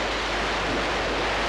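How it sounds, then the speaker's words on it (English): A swollen river rushes into a village, giving a steady, loud broadband roar of churning floodwater with no break. "The river seems to have swollen."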